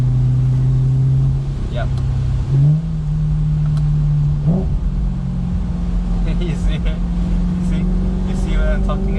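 A BMW E93 M3 convertible's 4.0-litre V8, roof down, drones loudly and steadily with rising revs while driving, and a voice speaks briefly over it.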